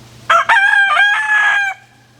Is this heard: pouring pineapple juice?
no